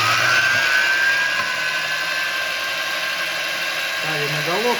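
A knife blade is sharpened on a belt grinder, a loud, steady, high-pitched whine with a continuous abrasive hiss that shifts slightly in pitch as the blade moves, while someone speaks over it.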